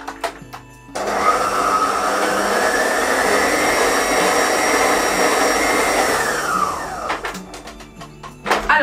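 An electric mixer beats scone dough flavored with mandarin marmalade, a steady loud whirring that starts after about a second, runs for six seconds and then winds down into clatter.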